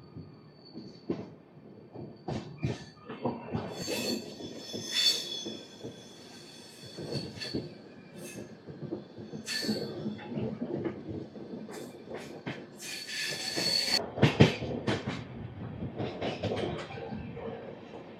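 Express train 17221 rolls on after leaving Eluru station, its carriages rattling and clattering in irregular bursts, with occasional high wheel squeals and a building rumble toward the end.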